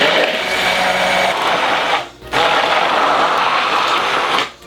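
A blender runs loud and steady, emulsifying a sauce with oil while seasoned with salt and pepper. The whir stops briefly, restarts, and cuts off at the end.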